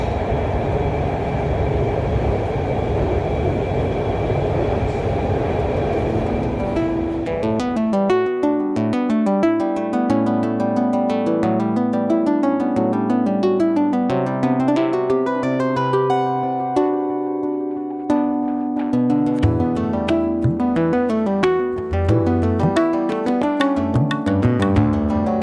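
Inside a moving Lahore Orange Line metro train, a steady rumbling ride noise gives way to a tonal, shifting electric motor whine as the train accelerates, continuous and close with no voices.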